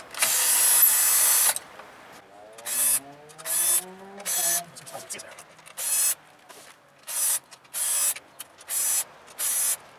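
A powered driver whirs in a long burst and then a string of short, evenly spaced pulses while backing out Torx screws from the MCU of a Tesla Model S, close and clear with little else around.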